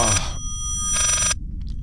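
Telephone in Layers of Fear rings loudly in two harsh electronic bursts separated by a short gap, shrill and close, with a low rumbling ambience beneath.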